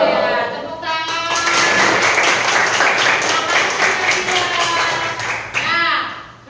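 Classroom students burst into lively applause for several seconds, with quick overlapping claps and a few children's voices mixed in, before it tapers off.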